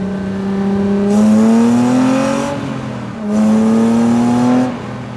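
Jannarelly Design 1 engine roaring while driving with no sound deadening, heard from inside the car as two loud rising revs through the gears, each pulling up in pitch before easing off, with no talk.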